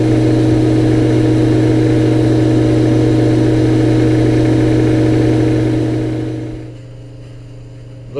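A milkman's truck idles close by at a farm, a steady low engine drone with a constant hum that drops away near the end, leaving quieter background.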